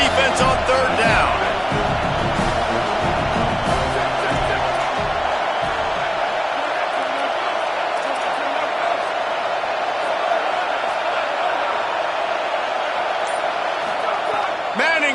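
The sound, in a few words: stadium crowd noise during a football game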